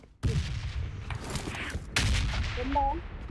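Gunfire in PUBG Mobile's Runic Power mode crackles in dense, rapid bursts throughout, with a brief gap before a second volley and faint game tones near the end.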